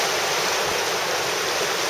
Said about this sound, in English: Good rapid.